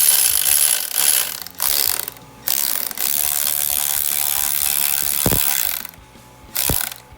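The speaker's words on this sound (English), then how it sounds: "it's compressed the spring down and it's giving you access to your little wedges" A valve spring compressor works on a turbo Barra engine valve spring, giving steady close ratcheting clicks in long runs broken by brief pauses and a couple of sharp metallic knocks.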